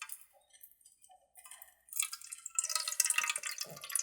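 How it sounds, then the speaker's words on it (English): Fresh water is poured into a glass, starting with a few soft, sparse drips and ticks, then a brighter, continuous trickle and splash near the end, quiet and close. "So I got a fresh glass of water, and we're going to pour that"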